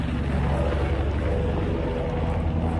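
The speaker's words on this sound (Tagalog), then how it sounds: "May helicopter." Helicopter flying overhead on a cold winter day in Canada, a steady deep rotor rumble that fills the whole clip, loud and continuous with no talking.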